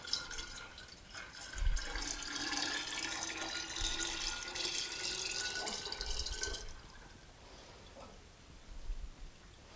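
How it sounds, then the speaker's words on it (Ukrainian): Distillate is poured into glass jars while preparing an oak barrel for whiskey. A soft, close liquid stream splashes for several seconds, then gives way to faint drips and small clinks, with no talking. "І зараз частково буду переливати дистилят в банки, розбавляти і тоді вже лити в бочку."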